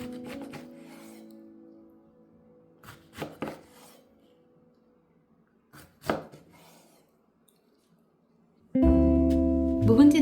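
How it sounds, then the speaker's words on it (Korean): A kitchen knife cuts aged kimchi (mukeunji) on a cutting board in a few separate, sharp strikes with quiet gaps between them, before a louder sustained tonal sound takes over at the end. "묵은지를 적당한 크기로 썰어주세요."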